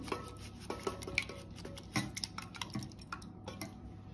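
Butter and egg yolk stirred together in a small dish, a utensil tapping and clinking against the sides in a loose, irregular rhythm, close and fairly quiet with no talking.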